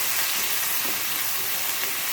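Loud, dense sizzling of fish pieces frying in hot oil, constant and close, with no voices.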